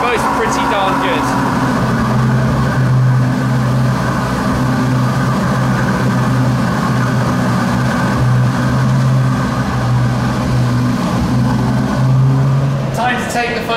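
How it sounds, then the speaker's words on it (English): A deep, steady 660-horsepower V12 car engine rumble holds at a constant idle throughout, loud and close, with a brief rise in revs near the end. "we're going to get the noise of a 660 horsepower V12 coming into life"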